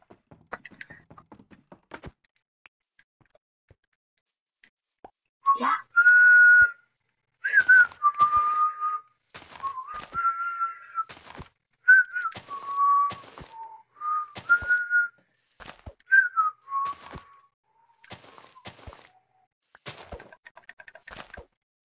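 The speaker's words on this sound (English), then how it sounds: "we should stop whistling" Whistling in sustained rising and falling tones, repeated in a loose melodic series with short gaps and some soft taps and knocks, clear and close without talk.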